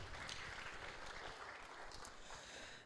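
Audience applause for a university team at a student competition's opening ceremony, a steady wash of clapping from a crowd, faint and distant throughout.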